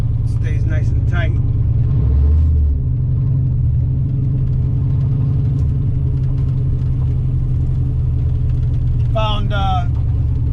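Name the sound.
car engine driving around the block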